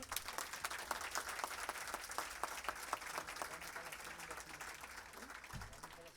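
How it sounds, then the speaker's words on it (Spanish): A crowd applauds at a university signing ceremony, a steady wash of many hands clapping heard from a distance and fairly faint, fading slightly toward the end. "El aplauso, por favor."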